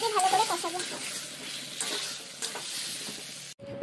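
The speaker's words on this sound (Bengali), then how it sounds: "তেলটা গরম হয়ে গেছে, এরপর এর মধ্যে আলুটা দিয়ে দিচ্ছি।" Potatoes dropped into hot oil for a village-style chicken dish, a bright close sizzle with bubbling and a few stirring clatters, cutting off abruptly near the end.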